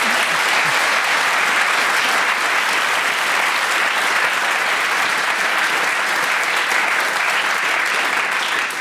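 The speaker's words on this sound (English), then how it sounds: "please accept this 1984 Decibel round of applause" A studio audience in a radio theatre breaks into sustained, dense applause, loud and steady from start to finish with no talk over it.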